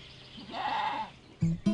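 Young pygmy goats at a Berlin zoo children's farm give a drawn-out bleat followed by two short, close bleats.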